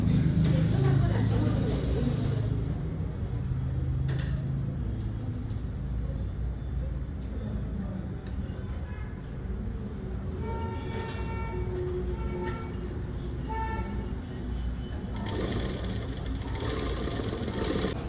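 A sewing machine fitted with a normal foot stitches thread piping with a steady mechanical whir and rattle that continues throughout. It quiets slightly in the middle and swells again near the end, and faint voices sound intermittently.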